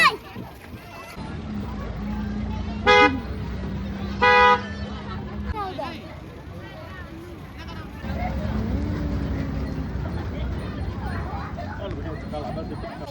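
A train sounds two short horn blasts as it starts off, with a low rumble of movement beneath and people chattering nearby throughout.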